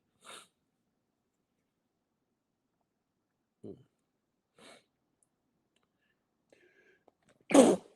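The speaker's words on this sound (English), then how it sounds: "I had to get that sneeze out." One sharp, loud sneeze near the end, after mostly quiet stretches broken by a few faint breaths and small noises.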